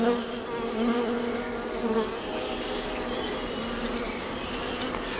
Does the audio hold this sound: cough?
no